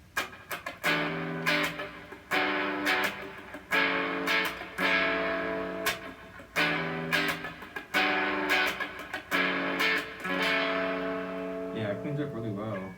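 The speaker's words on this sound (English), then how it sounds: "I want to do some chords and get that reverb in the background, that sort of reverb." Electric guitar chords played through a fuzz pedal with reverb, strummed in slow repeated bursts that ring out into a wide, washy tail, heard up close with no talking.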